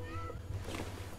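A cat meows in the Hello Neighbor 2 video game, a short call over a low background hum with game noise, and no talk is heard.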